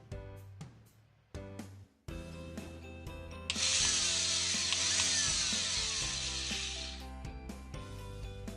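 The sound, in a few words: drilling a hole with a drill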